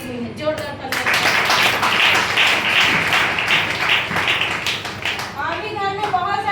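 Audience applause, a burst of loud, dense clapping from a crowd that swells in the middle and thins out near the end, with a voice speaking at the start and close.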